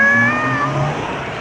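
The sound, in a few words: voice imitating a cat meowing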